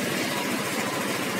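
A Yamaha Aerox scooter engine idles with a steady, close, low rumble and dense mechanical hum, held even throughout with no revving.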